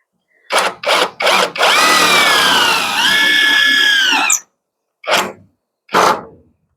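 A power drill drives screws during a window installation: three quick trigger pulses, then a sustained whirring run of about three seconds that changes pitch under load, followed by two more short bursts after a pause.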